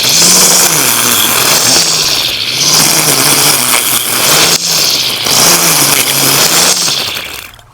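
A Makita 40V electric grass trimmer motor whirs steadily as it cuts through thick grass, its pitch dipping and recovering in repeated waves under the load, loud and close with no talking.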